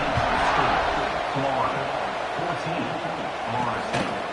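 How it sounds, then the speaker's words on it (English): Crowd murmur from a football video game, a steady buzzing roar of spectators sitting under an excited commentator's voice throughout. "this crowd is buzzing after that last score"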